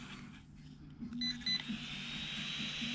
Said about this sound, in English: hear the ESC working.